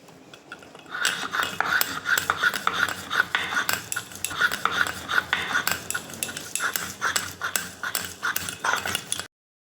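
Fried onion, garlic, dried chili and a little black cumin are ground together on a stone slab, giving a steady rhythmic scraping and knocking of stone on stone, close and fairly loud, with no talking.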